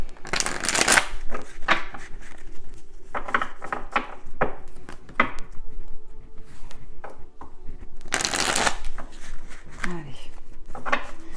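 A deck of oracle cards is shuffled by hand, producing close, crisp bursts of riffling and sliding with short pauses and soft taps between them.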